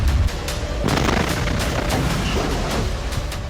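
Explosion destroying an Israeli Merkava tank in the Jabalia camp, a loud blast followed by a rapid crackle of gunfire and booming reports, dense and continuous for a few seconds.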